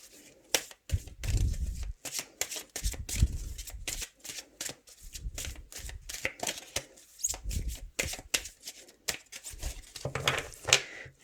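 A deck of oracle cards shuffled by hand, with rapid papery riffles and slaps coming in bursts across the whole stretch, close and fairly loud, with no talking.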